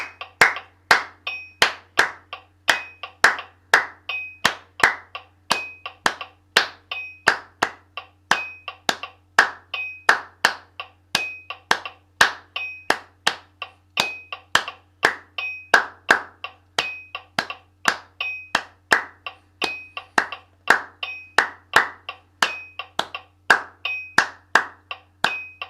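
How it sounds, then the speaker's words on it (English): Rhythmic hand clapping at a brisk tempo during a musical warm-up, crisp close claps in a steady repeating pattern over a metronome-like beat that runs the whole way through. "We're just going to see if we can clap that to this higher tempo."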